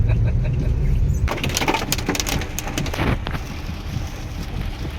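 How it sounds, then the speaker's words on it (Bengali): Rain pours down steadily, a dense close hiss of drops hitting surfaces, with a burst of heavier splashing and clattering early on before settling into a constant wash of rainfall. "এখানে বৃষ্টি হচ্ছে, ওখানে হচ্ছে না"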